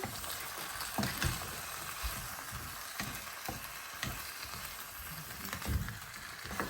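Beef and bitter melon sizzle softly in a pan with a soy sauce mixture while a utensil stirs them, the quiet frying hiss broken by light scraping strokes in an irregular rhythm.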